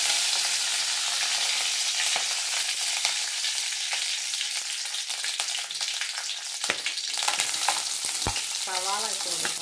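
Curry leaves dropped into hot coconut oil with mustard seeds, giving a loud, continuous sizzle and spitting crackle with a few sharp pops and clinks of a stirring spoon toward the end.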